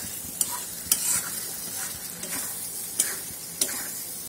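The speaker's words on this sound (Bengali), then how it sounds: "চিংড়ি মাছটা দিয়ে ভালো করে মশলাটা আর কি কষে নিতে হবে" Shrimp stir-fried in masala sizzles steadily in a pan, with occasional sharp scrapes and taps of a spatula cutting through the continuous frying hiss.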